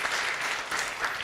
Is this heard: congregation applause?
yes